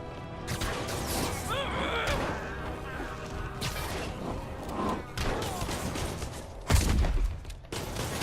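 Gunfire bursts rapidly in a Spider-Man video game amid crashes and impacts, dense and loud throughout, with a sharper blast near the end and a voice talking over the action.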